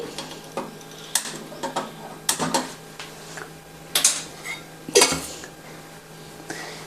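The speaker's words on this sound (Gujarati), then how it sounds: "પ્રેશર કુકરનું ઢાંકણ બંધ કરી ગેસ પર લઈ" Metal clanks and knocks as a pressure cooker lid holding sweet potatoes is shut and the cooker is set on a gas stove, a series of sharp close clatters spaced over a few seconds with quiet between, no talking.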